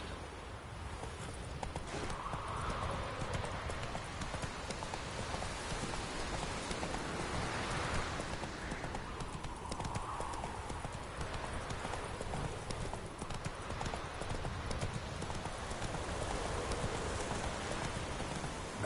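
Roach, a horse in The Witcher 3, clip-clops along steadily with rhythmic hoofbeats under a constant wash of falling rain, moderately close, with faint game ambience and no clear speech.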